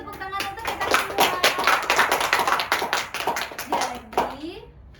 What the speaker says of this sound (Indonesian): Coba tepuk tangan untuk kita semua.